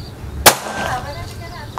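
A single sharp crack from a PCP air rifle, a Predator Bocap Phantom Black Army 500 cc, rings out close and loud, followed by a brief fading tail.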